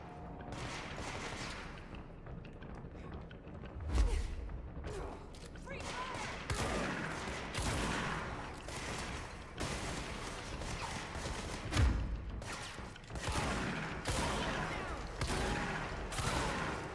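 Dense bursts of gunfire rattle through a firefight in the video game Control, with a heavier thump near the start and another near the end, layered over a steady wash of combat noise.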